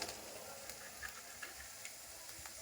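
Mustard seeds crackle and sizzle in heated oil, a steady fine frying hiss with small scattered pops, close and moderately faint, with no voices.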